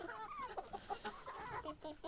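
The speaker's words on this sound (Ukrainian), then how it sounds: "Це мої курочки." Domestic chickens, hens and young roosters, cluck and chatter together in a backyard coop on a cold September day, a busy overlapping stream of short calls heard close up without any talking.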